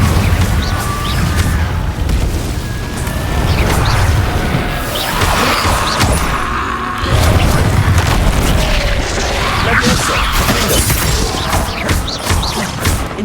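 Confringo explosive spells burst in combat in the Hogwarts Legacy video game, a dense, loud, continuous wash of booms, crashes, thuds and whooshes.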